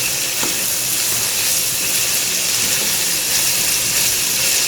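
Carrots fry for fried rice in a hot pan, giving off a loud, continuous sizzle and hiss that stays even and unbroken from start to finish.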